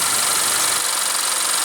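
A 2016 Honda CR-V's 2.4-liter inline four-cylinder engine runs steadily with a loud, even hum and a light mechanical rattle, up close and without talk.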